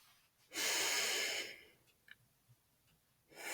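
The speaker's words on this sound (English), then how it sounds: "We're going to breathe out a bit more, breathe out a bit more, and then a big breath in" Deep breathing: a long, close breath out followed by a pause, a few small clicks, and then the start of a big breath in.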